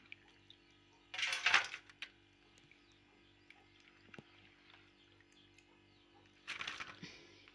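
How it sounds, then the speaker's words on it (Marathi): Two short bursts of water sloshing and splashing as potatoes are rinsed in clean water, separated by a quiet stretch with a low hum and faint birdsong. "स्वच्छ पाण्याने अजून धुवून घेऊया."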